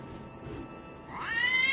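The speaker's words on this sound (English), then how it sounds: "The cat." A cat meows once in the video game Deracine, a short rising cry that swells louder toward the end over a faint background hum.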